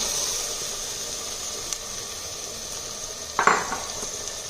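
Spice masala fries in oil with mashed potato in a clay pot, a steady soft hiss under a faint tick and then a short clatter of a utensil against the pot near the end, with no voices.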